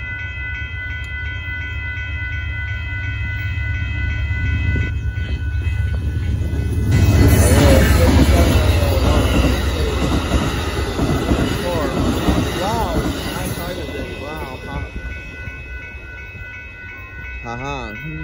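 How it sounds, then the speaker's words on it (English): The northbound Amtrak Texas Eagle 22 passenger train passes at Dittmar Road in Austin, Texas: a deep rumble swells as it arrives, then loud wheel and car noise with some squealing continues, fading slightly near the end. "Sorry for the wait, but here comes the Amtrak finally."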